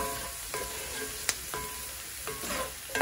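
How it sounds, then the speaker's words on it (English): Pasta being stirred as it cooks in a pan, with soft scraping strokes and a few sharper clinks over a steady low sizzle, close and fairly quiet, with no voices. "you just want to stir it a little bit. So it becomes a little soft"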